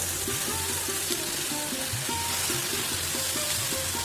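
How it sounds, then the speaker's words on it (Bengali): Chopped vegetables for a prawn and palum greens chorchori sizzle steadily in a pan while being stirred, a continuous close frying hiss with soft rhythmic scraping and clinks throughout, no voices. "আমি এটাকে ভালো করে নাড়াচাড়া করে দিচ্ছি"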